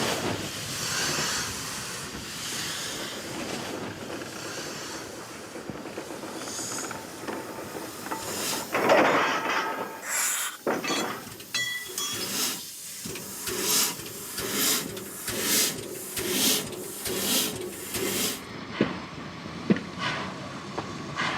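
Steam mountain locomotive at the Langeac depot in the Allier gorges, hissing and clanking with bursts of steam and mechanical rattles, loud and close, building into rhythmic chuffing in the second half.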